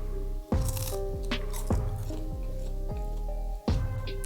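A crunchy seaweed snack is bitten and chewed up close, several sharp crisp crunches spaced about a second apart with quieter crackling between them.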